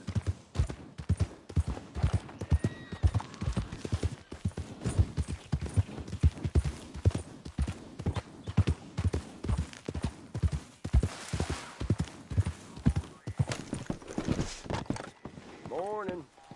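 Horse hooves clip-clopping steadily in Red Dead Redemption 2, a close, regular walking rhythm of distinct hoof strikes lasting throughout, with a brief whinny near the end.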